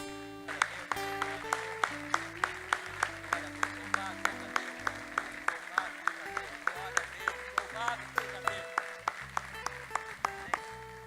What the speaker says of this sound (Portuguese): Então nós vamos aplaudir o Senhor, amém?